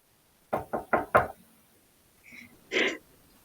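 Four quick, close knocks on a door in a rapid even series, followed after a pause by faint rustling and a short breathy sound, with no talking.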